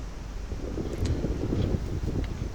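Steady wind buffeting the microphone, a low rumbling rush with a few faint rustles on top.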